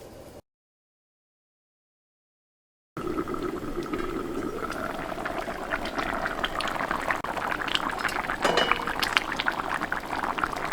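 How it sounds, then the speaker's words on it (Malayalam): Angamaly-style mango curry simmering in a covered pot, a steady close bubbling and gurgling that holds throughout after a brief silent gap at the start. "ഈ കറി നന്നായിട്ട് തിളച്ച് കഴിയുമ്പോൾ ഒന്ന് ഇളക്കി കൊടുക്കണം"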